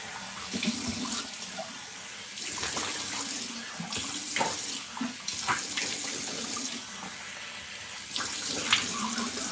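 Cold tap water runs steadily into a sink close by, splashing and shifting as something moves through the stream, with no talking.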